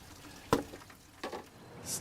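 Old coolant drains from a 1997 Ford Ranger, faint and close, with soft liquid trickling and a couple of brief splashy spurts.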